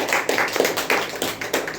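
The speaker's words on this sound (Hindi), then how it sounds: "एक अच्छा ताली बजाएं प्रभु के लिए।" A church congregation claps in praise, a run of quick, moderately close hand claps with a loose, uneven rhythm and no talking over it.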